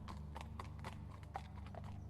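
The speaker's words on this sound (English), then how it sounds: "a horse's hooves ring on the stones outside" A horse's hooves clip-clop in a steady walking rhythm on stones, moderately near, over a low constant hum, with no one talking.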